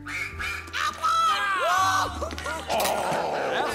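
Loud, nasal duck quacks come in a rapid series of calls amid a lively game-show crowd, with shouting and background noise between the quacks.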